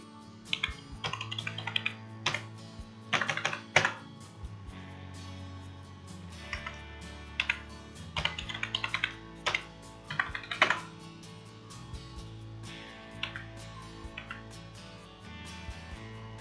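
A computer keyboard typed on to enter a login ID for a stock trading platform: clustered bursts of rapid key clicks separated by short pauses, close and moderately quiet, with no voices.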